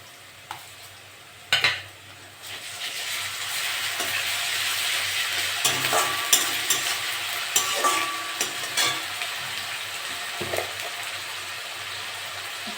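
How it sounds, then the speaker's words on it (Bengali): Browned onions fry in a pan with a spoonful of ginger-garlic paste added. An early metallic clatter gives way to a steady close sizzle broken by repeated stirring scrapes and spoon taps. No voices are heard. "পেঁয়াজটা ভালো করে ভাজা হয়ে গেছে, আদা রসুন বাটা 1 চামচি দিয়ে দেবো।"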